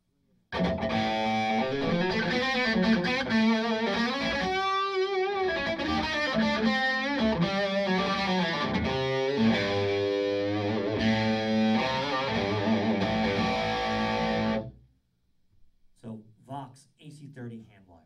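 Hand-wired Vox AC30 guitar amp on its top boost channel with hot gain, a distorted electric guitar playing loud chords and quick melodic runs up close, stopping abruptly before a short quiet tail of faint voices.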